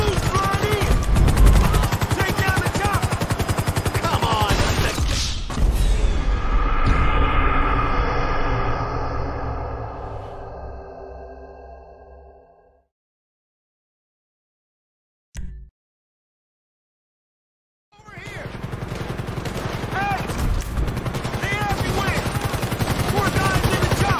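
Gunfire aimed at a helicopter in GTA 5, heard as dense, loud rapid shooting with rotor noise and voices that fades into near silence, then returns after a brief pop.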